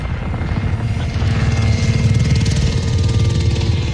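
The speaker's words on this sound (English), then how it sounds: "Get the chopper up in here, son." Helicopter in Modern Warfare, a loud continuous rotor chop and engine drone that stays close and steady throughout with no voices.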